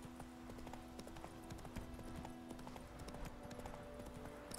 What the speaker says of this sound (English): I guess I could call my horse.